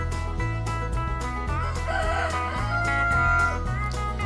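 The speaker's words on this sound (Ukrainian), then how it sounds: "Півник кукурікає. Кукуріку." A rooster crows loudly and close, a long repeated cock-a-doodle-doo rising and falling over steady background clucking from other fowl.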